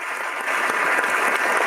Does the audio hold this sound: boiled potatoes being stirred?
no